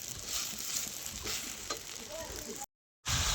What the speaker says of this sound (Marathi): कांदा चांगला लाल भाजून घेतला आणि आता त्याच्यामध्ये टमाटर टाकून घेतलाय